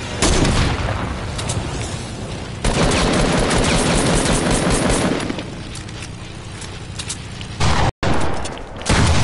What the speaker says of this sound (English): Bro, shoot it with your gun.